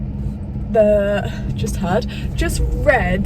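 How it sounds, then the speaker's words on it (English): A car engine idles as it warms up, a steady low rumble running throughout beneath a person talking close by. "Sorry if you can hear my car quite loud. My car is just warming up"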